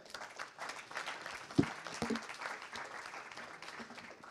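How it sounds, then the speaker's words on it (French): An audience applauds steadily after a talk, a dense patter of many hands clapping at moderate distance with a few voices mixed in. "On peut l'applaudir."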